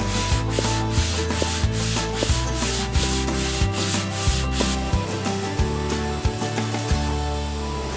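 Wood is sanded inside a sailboat interior under rebuild, a close, loud rhythmic scrubbing with repeated strokes, and sharp bumps mark each pass.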